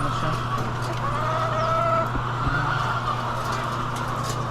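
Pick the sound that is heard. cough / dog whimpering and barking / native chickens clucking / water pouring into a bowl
native chickens clucking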